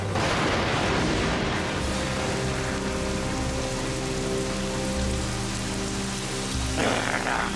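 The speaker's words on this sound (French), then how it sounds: "Que la princesse de l'île déverse sa pluie sur vous" Steady, dense rain pours down across the whole clip, loud and continuous, with a few heavier splashing gusts near the end.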